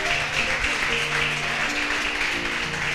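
Church congregation applauding during a Portuguese-language evangelical service, a steady wash of many hands clapping throughout, fairly loud and continuous with faint background tones.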